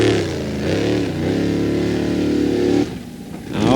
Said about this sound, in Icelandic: hljóðin í vélinni verða ókennilegri eftir því sem hann líður á